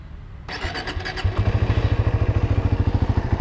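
A new Yamaha sport motorcycle, successor to the Byson, starts up with a short starter whir and catches at once, then settles into a steady, close, loud idle with an even throbbing pulse.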